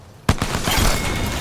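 An R-99 submachine gun fires in Apex Legends, starting abruptly as a rapid, dense burst of shots that continues loudly to the end.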